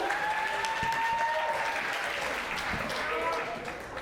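A comedy club crowd at the Stardome applauds as a comedian is welcomed to the stage, loud sustained clapping with a few whistles and a host's voice over the top, tapering slightly at the end.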